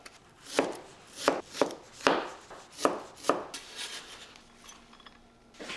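A knife minces carrot rapidly on a cutting board, a series of close, crisp thuds in an uneven rhythm.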